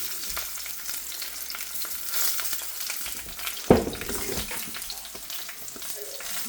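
Eggplant fries in olive oil in a pan with a soft, continuous sizzle, broken midway by a sharp clank of a utensil against the pan, followed by a brief burst of stirring.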